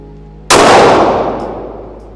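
One shot fired one-handed from a handgun at a shooting range: a single very loud, close report whose ring trails off over more than a second, with no other voices or sounds.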